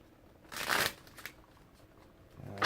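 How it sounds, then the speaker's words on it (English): Tarot cards being shuffled by hand up close: one quick riffling burst, then a couple of softer flicks, fairly quiet against a still room. "Let me get about 2 more shuffles"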